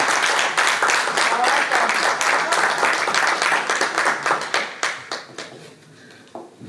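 Audience applause fills a conference hall in Berlin at an inaugural women's event, a dense steady clapping that thins into scattered individual claps and fades near the end.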